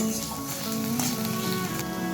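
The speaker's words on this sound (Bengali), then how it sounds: "আরও কিছুক্ষণ ঢেঁড়সের সাথে পেঁয়াজটা ভেজে নেব" Okra and onions fry together in a pan, giving a steady, close sizzle that runs evenly through the whole short stretch with no talking.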